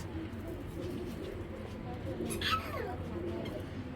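A young racer pigeon released outdoors gives soft, low throaty coos that repeat under a faint background voice, with a brief sharper sound near the middle.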